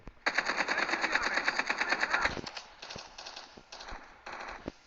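Rapid automatic gunfire from a video game rattles loud and continuous for about two seconds, followed by scattered single shots and short bursts.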